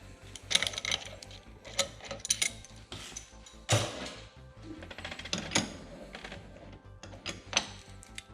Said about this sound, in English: I'll go ahead and tighten this guy down